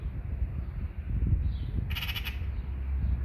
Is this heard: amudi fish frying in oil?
no